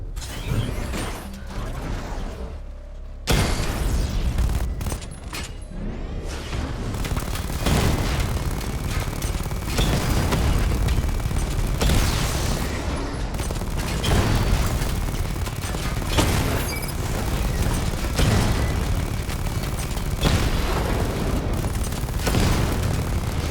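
Missile barrage explosions from Batman Arkham Knight, a dense, continuous stream of booming blasts and mechanical clanking that runs loud and steady almost throughout, with a brief quieter stretch near the start.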